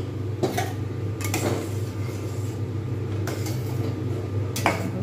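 A spoon stirs a chusi pitha mixture in a pot, with gentle, irregular scrapes and light metallic clinks against the vessel, close and unhurried over a steady low background hum.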